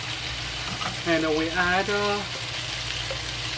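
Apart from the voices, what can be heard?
frying ginger with Sichuan chili sauce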